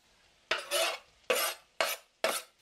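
Jackfruit stirred and broken up in a pan for a vegan coconut curry: four separate scraping, rubbing strokes of a utensil against the pan, each a short burst with pauses between, close and clear with no talking.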